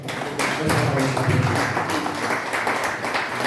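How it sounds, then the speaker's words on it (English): An audience at a lecture series claps for a speaker, a steady, dense patter of applause that keeps going at moderate loudness throughout with no talk over it. "Let's offer him a clap offering."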